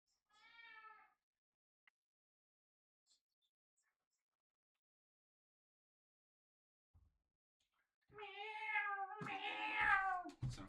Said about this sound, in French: il y a mon chat Ok, qui lui, miaule